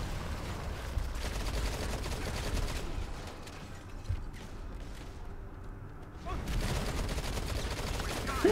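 Sustained rapid gunfire from a placed turret in the mobile shooter Modern Combat 5: Blackout, dense and continuous, briefly thinning midway before the loud barrage resumes, with faint voice mixed in.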